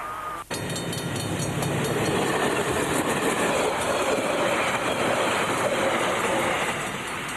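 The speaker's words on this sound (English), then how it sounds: "The train often passes over the crossing as more than 700 pupils are leaving for the day." The Southern Express train passes a level crossing near a school, a loud, close rumble of rolling wagons with clickety-clack wheel beats and faint squeal lasting throughout.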